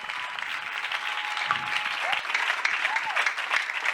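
A church congregation applauding and cheering for God, a steady wash of clapping that runs the whole time, with voices calling out and a brief tone sounding through it.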